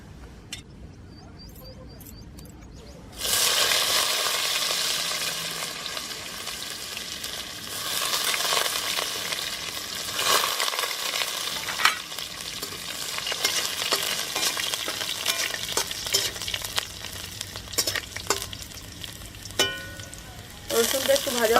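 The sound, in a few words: garlic frying in a pan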